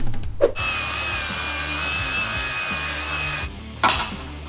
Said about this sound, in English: I'm gonna grind up the cross member where I believe the mount for the transmission is gonna go.